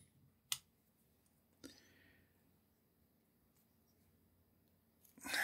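Small cutters snip a part off the sprue of a Tamiya 1/48 P-38G Lightning model kit, giving two sharp, quiet clicks about a second apart in a hushed room, then a louder rustle at the end.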